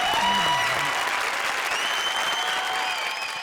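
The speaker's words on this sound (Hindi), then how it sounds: "जोरदार तालियां" Loud, dense audience applause fills a Comedy Circus stage show from start to finish, steady and close, with a brief voice-like tone early on.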